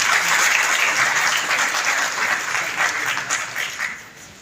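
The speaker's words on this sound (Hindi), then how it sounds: "जोर से ताली बजाएंगे COI के लिए।" An audience at a conference claps loudly, a dense burst of applause that starts strong and gradually thins and fades over a few seconds.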